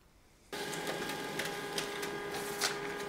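An HP LaserJet M140we laser printer starts up abruptly and runs steadily through a page, a continuous mechanical whir with light rhythmic clicks and rattles, close and alone.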